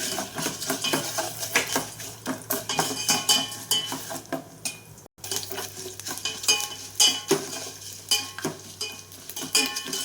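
Cashews, almonds and raisins sizzle in hot ghee while a metal spoon scrapes and stirs a pan in steady, repeated strokes.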